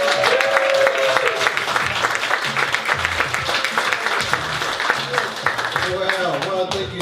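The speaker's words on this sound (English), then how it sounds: "Start making some noise for David Grant!" Audience applause and cheering at a comedy open mic night, a dense, steady roar of clapping and whoops filling the room for about seven seconds with a host's voice riding over it.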